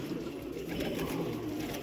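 Champion high-flying pigeons coo in a continuous dense, low murmur that holds steady at close range throughout.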